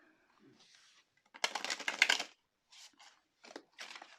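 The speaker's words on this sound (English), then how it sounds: "Just let me quickly like shuffle my deck." Close riffling and soft slapping of a tarot deck being shuffled, one longer burst followed by several short bursts.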